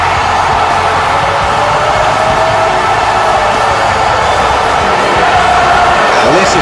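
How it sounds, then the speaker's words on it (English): A packed wrestling video game arena crowd cheers in a loud, constant roar that swells slightly toward the end. "This crowd is going insane right now for the CAW World Heavyweight Champion."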